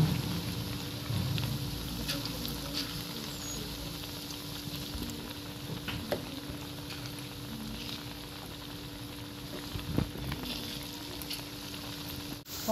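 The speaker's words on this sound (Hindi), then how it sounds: "पकौड़ी बहुत अच्छे से फ्राई हो गई है और खूब अच्छे से गोल्डन हो गई है" Masoor dal pakoras deep-frying in hot oil, a steady dense sizzle with occasional bubbling pops running evenly throughout, close and continuous with no talk.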